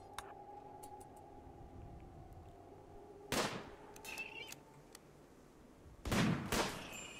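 Two short bursts of gunfire in the colony-building game RimWorld, separated by a few seconds, with quiet game ambience and small ticks in between.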